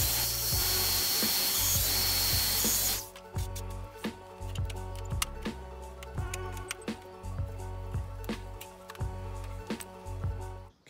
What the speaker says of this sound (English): so I'm gonna do two dominoes close together so the holes will overlap